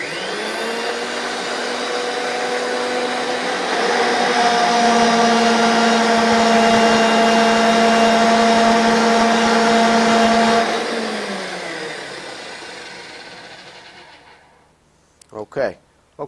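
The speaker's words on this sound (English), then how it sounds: "So I'm going to turn the machine on, I'm going to approach the pipe, and when I feel that I've reamed enough out of the pipe" A RIDGID 535M pipe threading machine runs while reaming a pipe end, a steady loud motor whine with a grinding hum that builds, holds for several seconds, then spins down to silence before a few clicks at the end.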